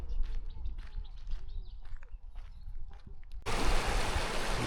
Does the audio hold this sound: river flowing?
yes